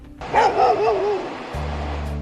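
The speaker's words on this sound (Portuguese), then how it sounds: "Cuidado com o cachorro. O bicho foi solto assim que começamos a gravar hoje pela manhã." A dog barks once up close, a single loud, drawn-out bark with a whining tail, followed by a steady low hum.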